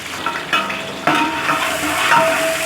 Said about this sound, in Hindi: तो इसमें जस्ट प्याज फ्राई करने के लिए हम ऑयल डालेंगे और साथ में ही प्याज ऐड कर देंगे।